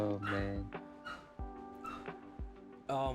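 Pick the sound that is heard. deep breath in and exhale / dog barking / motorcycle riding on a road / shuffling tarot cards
dog barking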